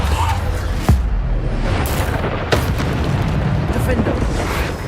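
Bombarda spell explosions in Hogwarts Legacy, loud booming blasts landing one after another over a rumbling battle din, with a voice calling out spell names between them.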